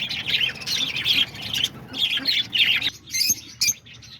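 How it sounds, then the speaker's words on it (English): Peach-faced lovebirds in an aviary, a flock of shrill chirps and squawks overlapping in bursts, fairly loud and close, briefly pausing before a few sharper calls. "These are all the peach-faced lovebirds."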